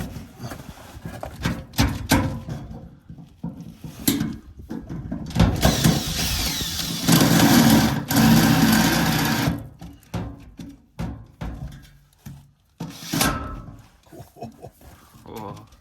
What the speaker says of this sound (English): drill up through the brackets and into the bodywork